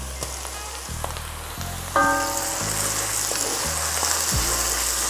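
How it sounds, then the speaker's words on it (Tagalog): Chopped garlic sizzles steadily in a pan of softened onions, cooked as the base of a beef caldereta, with a continuous hiss running under soft stepped musical tones throughout. "Igasa lang natin to saglit, mga 1 minuto lang."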